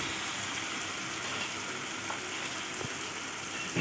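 Tomato rice being mixed in a hot cooking pan, a steady close sizzle with faint scrapes of stirring beneath it, and no talking.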